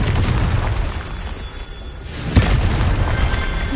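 A blasting-curse explosion in Hogwarts Legacy lands as a sudden close boom, then a rumbling, crackling aftermath that sustains for a couple of seconds after a brief quieter stretch.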